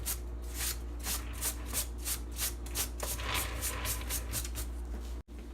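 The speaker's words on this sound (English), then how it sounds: "Then I take a paper towel and just wipe off the extra crumbs." Paper towel wiping loose crumbs off a buttercream-filled cake, a steady series of soft, rhythmic brushing rubs close up with no talking, ending in a brief dropout.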